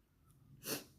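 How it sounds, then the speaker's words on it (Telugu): A single quick sneeze bursts out, brief and soft, over low background hiss during a live commentary recording. "తుమ్మొచ్చి ఆగిపోయింది."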